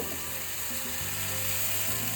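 Instant green pea dosa batter sizzles on a hot non-stick tawa in a constant close hiss, with a low mechanical hum running underneath.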